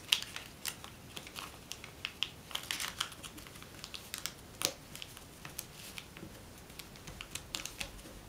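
Paper is creased into a mountain fold for an origami piranha fish, giving close, crisp crinkles and soft taps in quick irregular bursts against a quiet background.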